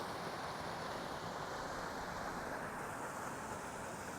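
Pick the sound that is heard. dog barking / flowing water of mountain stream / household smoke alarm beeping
flowing water of mountain stream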